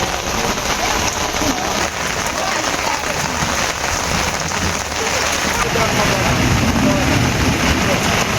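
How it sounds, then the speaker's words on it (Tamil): Heavy rain pours steadily and loudly for about an hour in Chennai, a dense continuous hiss and patter with no pauses. "சுமார் 1 மணி நேரம் கொட்டி தீர்த்த கனமழை"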